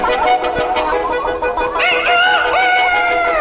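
A rooster crows loudly nearby, a long rising and falling call, with hens clucking softly around it.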